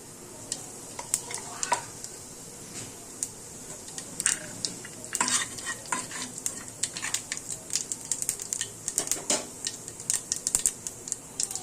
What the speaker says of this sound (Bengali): এবার আমি আরেকটু ঘি এতে দিয়ে দিচ্ছি। দিয়ে একটু জিরে ফোড়ন দিয়ে দিলাম।